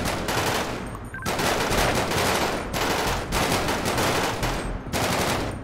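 Sustained automatic gunfire in a FiveM police roleplay shootout at a nightclub comes as loud, dense bursts separated by short gaps, with no talking.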